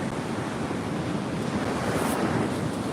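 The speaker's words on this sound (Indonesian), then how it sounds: "Ini pantai Sawarna." Surf and strong wind at Sawarna beach, a dense continuous roar of breaking waves with wind buffeting the microphone, no voices.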